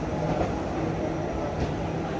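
A train rumbles steadily from inside a carriage, a constant loud roar with faint murmured voices beneath it.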